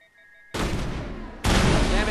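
Two heavy gunshots from the Mass Effect video game, about a second apart, each a loud, booming blast that cuts in abruptly and rings on.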